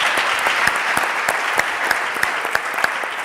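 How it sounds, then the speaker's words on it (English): Large gala audience applauding at a startup challenge final, dense steady clapping that fills the room with a few sharper individual claps standing out, loud and continuous throughout. "lots of people applauding here"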